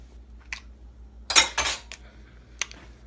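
A utensil clinks and scrapes against a pot or bowl in a few quick strokes while stirring pasta noodles with ranch and mayonnaise.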